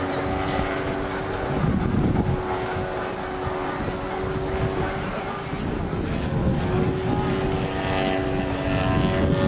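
A model airplane engine drones steadily as the plane flies aerobatics at an A.C.O. Cernay meeting, with the pitch rising and falling through the manoeuvres, wind buffeting the microphone and voices talking over it.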